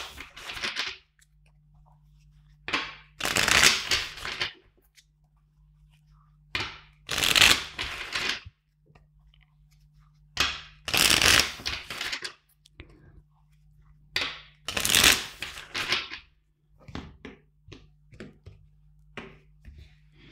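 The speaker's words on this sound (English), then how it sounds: "Let's shuffle the deck for them three more times." A tarot card deck being shuffled by hand in several loud bursts of riffling and sliding, separated by short quiet pauses, close and clear, with a faint steady hum underneath.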